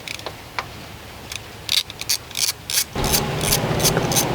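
A hand ratchet clicks in short bursts while backing out the front fuel-tank bolts on a Honda ST1300 motorcycle, the quick ratcheting strokes close and fairly loud, with no talking.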